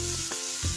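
Banana flower frying with spices in a pan for a fritter filling, a short burst of close sizzling with a couple of quick stirring scrapes, no talking.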